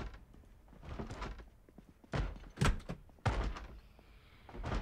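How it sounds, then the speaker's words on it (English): In the video game Project Zomboid, a zombie bangs on a door with several heavy thuds at irregular intervals, fairly quiet and somewhat muffled. "It could be the zombie banging on the door."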